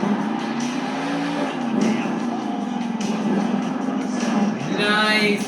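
The Grave Digger monster truck's engine roars in an arena during a Monster Jam freestyle run in Wichita, Kansas. Its pitch rises and falls, then a brief high squeal comes near the end, over a faint crowd.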